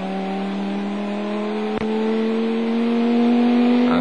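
A Chrysler Viper race car at Le Mans in 1999 drones with a steady, rising engine note as it accelerates along the track, one brief sharp click midway and no voices.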